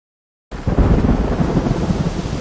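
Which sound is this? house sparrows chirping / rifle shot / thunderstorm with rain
thunderstorm with rain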